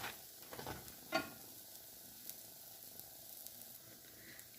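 Börek frying in butter in a covered pan, a soft steady sizzle with a faint hiss throughout and a small clink near the start, quiet and close.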